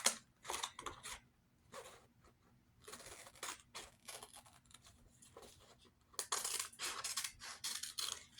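Scissors cut out a printed paper design meant for a cap, making repeated close, crisp snips in irregular bursts with short quiet gaps between them.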